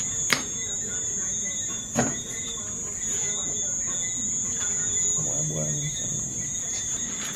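Crickets chirp in a steady, high continuous drone outdoors in Jamaica during a fish catch-and-cook, with a couple of sharp knocks and brief faint rustling partway through.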